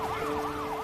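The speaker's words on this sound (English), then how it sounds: "Dazed and confused, emergency personnel point Joe Chan to an ambulance" An ambulance siren wails in a continuous rising-and-falling sweep, loud and steady, with a low vehicle hum underneath.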